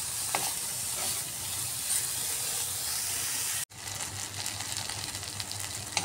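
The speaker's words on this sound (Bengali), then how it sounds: "বেগুনটাকে ভালো করে ফ্রাই করে নিতে হবে" Eggplant frying in hot oil for a rohu fish curry, a loud steady sizzle and hiss that cuts off abruptly midway, then resumes with crackling pops.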